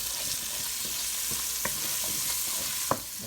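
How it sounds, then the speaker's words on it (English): Fresh garlic sizzles in a hot pan for a meatball sauce while a utensil stirs it, a close, constant frying hiss broken by scattered scraping taps and one louder knock near the end. "We're gonna stir this around."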